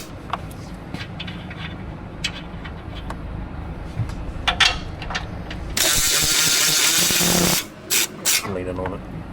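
A power tool works on the bumper nuts of a 2023 Jeep Wrangler, giving a loud, close burst of whirring about two seconds long, then two short blips, with voices talking around it.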